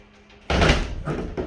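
A door that doesn't latch properly shuts with a sudden solid thump, followed by a brief rattle and a softer knock as it settles, fairly close.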